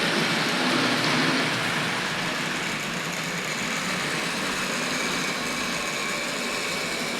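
A Tri-ang Hornby R.553 Caledonian Single model locomotive hauling five Caledonian coaches up an incline with the power turned up slightly gives a continuous close whirring and rumbling hum that stays steady throughout.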